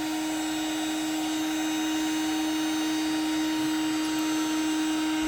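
A cordless heat gun powered by a Milwaukee M18 battery runs with a steady whirring fan drone and a strong constant tone, close and unbroken throughout, with no voices.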